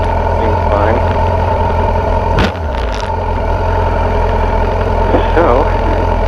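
A 2006–2015 Yamaha FZ1 motorcycle fitted with a Dynojet Power Commander 5 idles at a steady, low, even rumble that holds throughout, with a brief dip in the middle.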